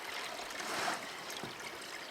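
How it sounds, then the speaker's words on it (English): Water from a gold panning highbanker sluice poured off, making a steady close trickling rush that swells briefly midway. "So let's pour the water off to the edge."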